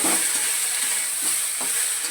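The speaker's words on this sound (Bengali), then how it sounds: "আর এদিকে বরবটি আলু তো ভাজছিলামই" Long beans and potatoes fry in a pan with a steady, close hiss of sizzling oil, broken by a few soft stirring scrapes.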